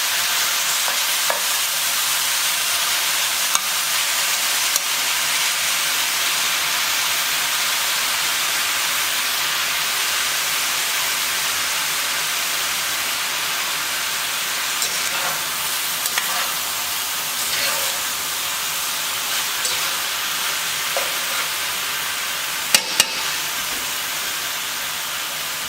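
Ground Wagyu brisket frying in a lightly oiled pan gives off a steady, close sizzle with occasional crackles and soft stirring scrapes throughout.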